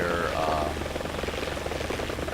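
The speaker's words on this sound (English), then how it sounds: "whenever you spawn into a helicopter in game, it's going to spawn you in the air, so you're going to be having a bit of a forward momentum" Mi-24D attack helicopter in the War Thunder combat game, its rotor and turbine engines producing a steady, dense thrumming drone with rhythmic blade pulses, loud and continuous throughout.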